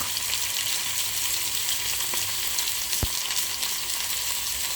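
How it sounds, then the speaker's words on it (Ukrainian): Steady, soft sizzling of liver frying in a pan over reduced heat, a continuous hiss with a faint crackle, no voices. "зробимо менший вогонь і нехай собі смажиться"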